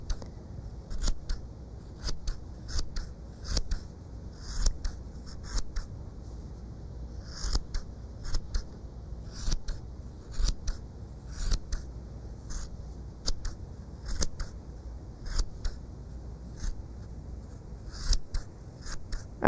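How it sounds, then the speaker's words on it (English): Scissors snip repeatedly at a yarn pom-pom, giving quick crisp cuts in an uneven rhythm, close and fairly quiet with no talking. "you need to give your pom-pom a decent haircut. Cut off all those extra bits."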